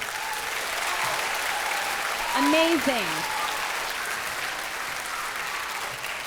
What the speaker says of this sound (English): So a big round of applause for the PTO.